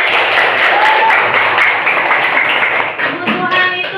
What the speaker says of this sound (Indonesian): Tepuk tangan buat berbaiti